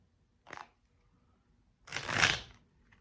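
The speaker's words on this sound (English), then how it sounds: "That wasn't the best shuffle." Two bursts of tarot cards being shuffled, a short riffle followed after a pause by a longer, louder ruffling flutter, close and otherwise quiet.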